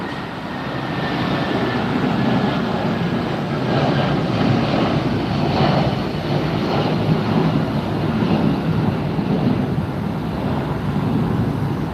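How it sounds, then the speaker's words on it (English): A United airliner taking off at Los Angeles International Airport, heard as a steady, loud broadband jet roar that holds at full strength for the whole stretch with no voices over it. "And we've got another takeoff right there."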